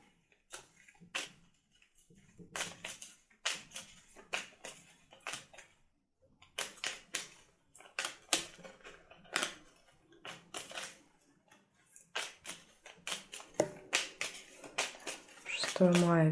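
Tarot-style fortune cards for a Gypsy patience spread being laid out one by one, giving sharp irregular snaps and taps of card on table throughout, with someone talking over them.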